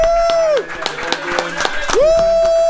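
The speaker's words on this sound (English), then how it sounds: "can we all give a really big fucking round of applause for Nate Carino?" A crowd at a Colorado agave collective meet-up at a restaurant claps and cheers, with loud whoops and rising shouted calls over scattered, close handclaps.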